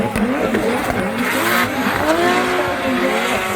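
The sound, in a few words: drift car engine and tyres at Mondello Park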